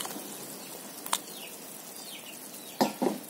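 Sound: chicken soup boiling as meatballs are added

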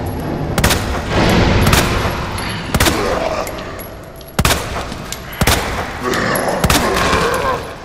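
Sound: gunshots in the video game Resident Evil 2 remake

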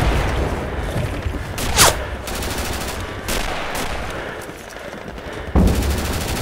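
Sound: gunfire from a video game

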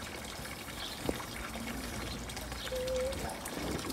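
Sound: water pouring from a hose

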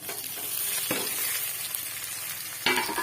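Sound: bitter gourd frying and being stirred in ghee

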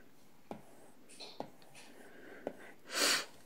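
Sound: sniffling

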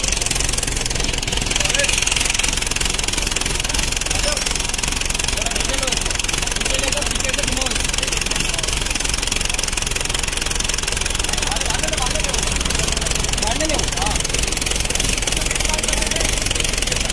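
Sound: jeep engine running on homemade crane

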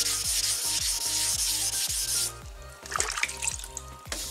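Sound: wet sanding clear coat paint on car

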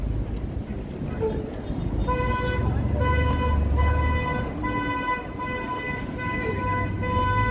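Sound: bus honking its horn in city traffic

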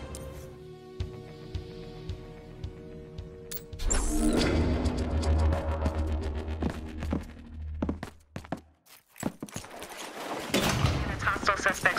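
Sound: gunfire in a video game

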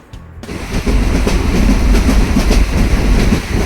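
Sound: train running on rails

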